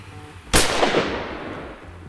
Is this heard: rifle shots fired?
yes